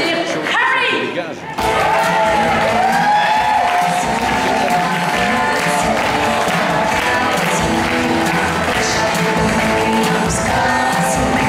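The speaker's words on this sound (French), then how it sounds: "Alors je vous demande d'applaudir Harry" A crowd at a slam poetry competition bursts into loud, sustained applause and cheering that fills the room for about ten seconds after a brief quieter opening.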